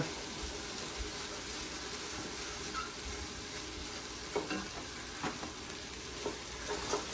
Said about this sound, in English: We're going to toast our rice.